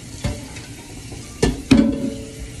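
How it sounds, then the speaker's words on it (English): Potatoes being rinsed in water in a pot make a few brief sloshing splashes and clatters, close and soft, separated by quiet gaps. "we gotta take these and rinse it, cause potatoes get dirty also, and so we want to make sure we rinse those a few times"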